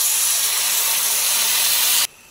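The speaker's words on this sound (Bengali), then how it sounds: "এবার আমি দিয়ে দিচ্ছি পরিমাণ মতো জল।" Water poured into a hot pan of fig curry sets off a loud, steady steaming hiss close by that runs for about two seconds, then cuts off sharply into quiet.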